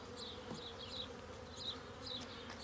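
Honey bees buzz softly around an open hive during an inspection, a faint steady hum with individual bees droning past close by now and then. No voices.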